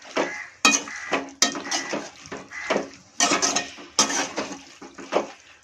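A ladle scrapes and clanks around a pan of village-style chicken gravy on a low flame, in a steady run of sharp metallic strokes with brief pauses between them.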